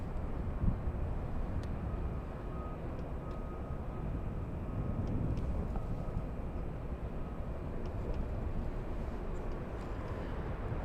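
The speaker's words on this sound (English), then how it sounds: "We have JetBlue flying in from Fort Lauderdale." A JetBlue airliner arriving at LAX from Fort Lauderdale, a distant, steady broadband roar of jet engines that holds evenly throughout, with no voices.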